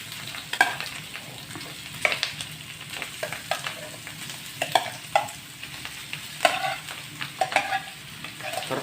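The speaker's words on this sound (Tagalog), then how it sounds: "Lalagay na natin itong tuwalya-tuwalya ng baka." Beef tripe stirred in a cooking pot, with a soft sizzle under it and intermittent scraping and clinking knocks from the stirring utensil, heard up close.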